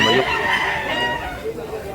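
A two-year-old rooster offered for sale in Consolacion, Cebu crows close by. Its harmonic call fills the two seconds while people talk around it.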